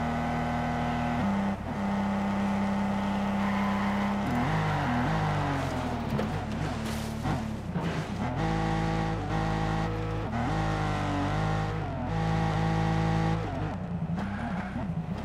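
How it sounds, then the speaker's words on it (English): Video game car engine revving loudly with rising and falling pitch throughout, shifting through gears, with brief tire noise in a stealth action game. "This is a very fun automobile."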